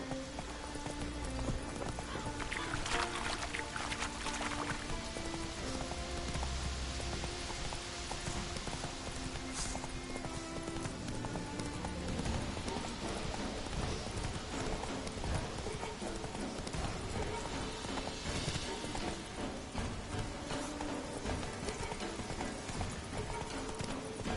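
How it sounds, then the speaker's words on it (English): Horse hooves clip-clop steadily through the Witcher 3 video game as the mount trots along, the rhythmic footfalls riding over a constant bed of game music and ambient rain-like texture. "Whoa there, Roach."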